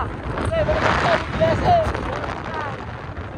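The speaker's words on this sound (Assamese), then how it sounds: "আৰু পুৰা বতাহ মাৰি আছে" Strong wind roars and buffets steadily against the microphone at a hilltop viewpoint in cold weather, with a faint voice briefly audible beneath the rushing noise.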